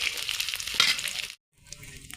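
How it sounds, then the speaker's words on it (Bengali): Dried fish sizzles and spits in hot cooking oil, a loud, close, crackling fry that cuts out briefly and then resumes more softly. "শুটকিটা ভাজা হয়ে গেছে, এখন হালকা লাল কালার হয়েছে"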